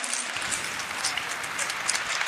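Audience applause at a community gathering honoring a guest, a steady wash of clapping from a crowd that stays even and fairly loud for the whole short stretch, with no one speaking over it.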